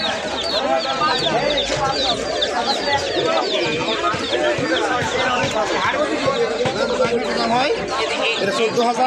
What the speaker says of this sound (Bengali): বিভিন্ন দেশি বিদেশি পাখিও পাওয়া যায় আমাদের নাটক বাড়ি হাটে